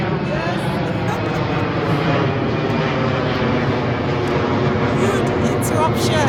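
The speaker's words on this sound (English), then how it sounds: "There's a plane flying at the right time" A plane flies over near London City Airport, a steady broad engine roar that fills the whole stretch at a fairly loud, even level, with a person speaking over it.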